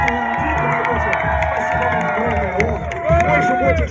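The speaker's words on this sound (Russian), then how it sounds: "за аплодисменты и свист, за эти возгласы" An outdoor concert crowd on a city street cheers, whoops and whistles in a dense, continuous roar close by, with shouted voices mixed throughout.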